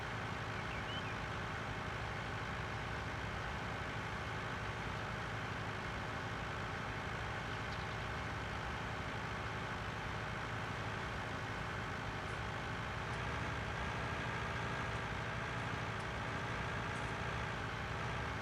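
A tractor engine runs steadily in Farming Simulator 19, a continuous low, even drone that holds at constant loudness for the whole stretch, with no talking over it.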